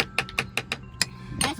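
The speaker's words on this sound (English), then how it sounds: "That's me tapping this on the thing." A spoon taps on a container of pumpkin slime in a quick run of about seven light, close clicks, with a short scrape near the end.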